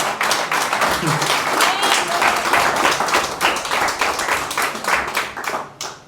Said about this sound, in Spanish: Y eso también merece un aplauso